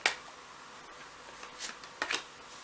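Playing cards are shuffled up close during a card reading, a few quick papery riffles and flicks in short bursts separated by near-silence.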